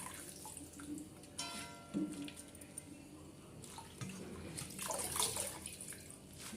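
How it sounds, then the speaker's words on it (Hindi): Water drains and trickles out of freshly washed spinach in a kitchen sieve, a soft, uneven splashing with small drips and a louder gush near the end. No voices are heard. "छन्नी से इसको छानेंगे ताकि पानी जो है वो बाहर निकल जाए"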